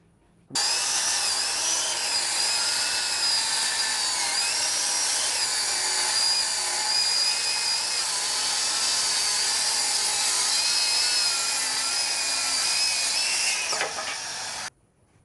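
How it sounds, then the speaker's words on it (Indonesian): A Stanley cordless circular saw making a 45 degree bevel cut, starting abruptly into a loud, steady high-pitched whine with slight pitch wavering as the blade cuts, then stopping sharply near the end. "kita akan ukur hasilnya dari tingkat kepresisian pemotongan bevel cut 45 derajat"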